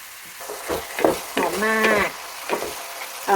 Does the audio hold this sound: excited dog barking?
no